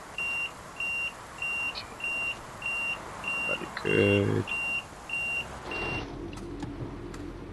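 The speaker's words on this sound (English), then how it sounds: "So that's just gonna beep because I'm not in the seat." Regular electronic warning beeps repeat steadily in a train simulator game on PS4, sounding because the driver's seat is empty; a voice speaks briefly midway and a rumble follows near the end.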